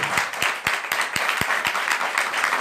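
Church congregation clapping in response to a preacher's call, a dense wash of many hands with a few sharp, distinct claps standing out at a quick, uneven rhythm, steady and fairly close.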